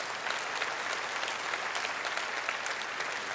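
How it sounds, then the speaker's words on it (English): A church congregation clapping for Jesus during a sermon on the Reformation, a sustained, fairly soft wash of many hands clapping with crisp individual claps throughout. "Yeah, go ahead and clap for Jesus, would you?"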